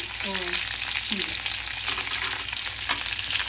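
Curry leaves and cashews dropped into hot oil for mango semiya pulihora, a steady crackling sizzle close up with occasional soft stirring scrapes.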